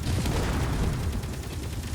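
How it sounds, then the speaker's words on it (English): Explosions and gunfire in the video game Underground Alone, a dense, continuous rumble of overlapping blasts and crackling bursts with no clear gaps. "So many explosions."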